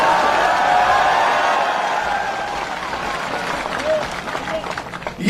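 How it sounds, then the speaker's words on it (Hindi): Applause from a crowd at a political election rally in Rajasthan, a loud burst of clapping that gradually thins and fades over about five seconds, with the crowd murmuring beneath. "इस पर ताली मारिए"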